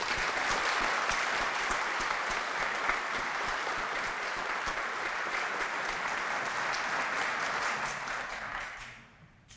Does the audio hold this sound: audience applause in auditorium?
yes